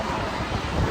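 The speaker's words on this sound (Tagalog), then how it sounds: "Yan, lakas ng hangin." Strong wind buffets the microphone with a steady, dense roar that fills the whole moment, with no voices.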